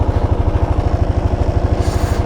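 A Kawasaki KLR 650 dual sport motorcycle idles close by, its single-cylinder engine thumping in a steady, rapid chug with a lawnmower-like putter, loud and continuous throughout.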